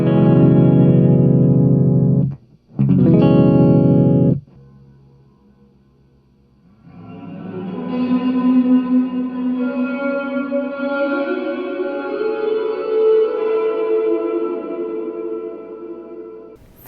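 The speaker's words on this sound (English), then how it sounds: "when you have it like that, there's plenty of reverb" Electric guitar through a JOYO R-14 reverb pedal with the mix turned up: two loud strummed chords cut off abruptly, then after a pause a sustained, washy chord with long reverberant tails swelling and ringing out alone.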